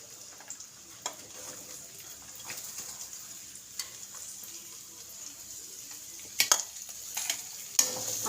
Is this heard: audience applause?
no